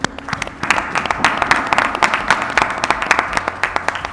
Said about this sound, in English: please give them a round of applause as a thank you